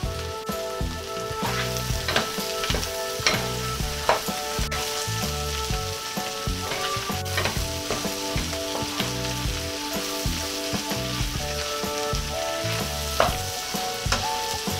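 Garlic shrimp frying in a pan give off a continuous, fairly loud sizzle and crackle, with small pops and the occasional clink of stirring throughout.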